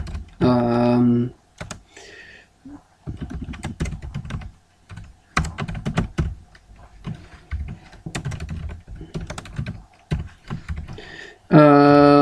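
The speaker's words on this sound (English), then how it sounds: "let me just type it super fast" Fast typing on a computer keyboard, with dense bursts of clicking keystrokes in uneven runs, close and clear, broken by brief pauses and short spans of speech at the start and end.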